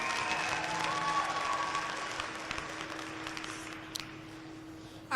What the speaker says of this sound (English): give them one more round of applause for having the confidence to get behind the microphone